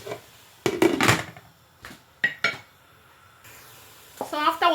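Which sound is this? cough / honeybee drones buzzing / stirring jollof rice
stirring jollof rice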